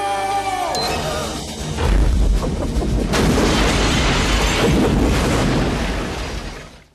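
A sound gun blast from the movie Steel: a descending whine gives way to a loud, sustained booming roar of rumbling noise lasting several seconds before cutting off, with no voices.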